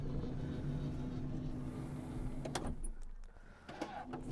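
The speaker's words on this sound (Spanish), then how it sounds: "Cuando vamos a abrir la puerta corredera que salta automáticamente" A power sliding door on a Chrysler Voyager runs open automatically with a faint motorised whir, ending in a couple of sharp latch clicks and clunks at close range, no voices.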